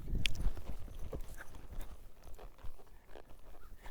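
A horse's hooves clip-clop steadily across a riding arena, an irregular walking-to-trotting rhythm of thuds close by with no talk.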